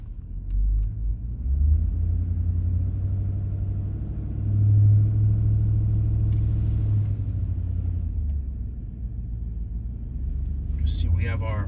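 A Hummer H2 with a transmission fault is driven, its engine a steady low rumble and road drone heard from inside the cabin, swelling briefly near the middle, while someone talks over it.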